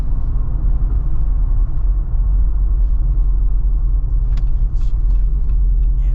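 Cabin rumble of a 2025 Jeep Wrangler Rubicon 392 with its V8 while driving on the road, a loud steady low drone throughout with faint higher rattles near the end, no talk.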